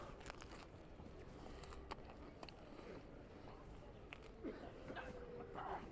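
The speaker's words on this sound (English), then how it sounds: "Crunchy pizza." Close biting and chewing of crunchy, cheap pizza in Wroclaw, Poland, with a run of sharp crunches and crackles over a busy background murmur.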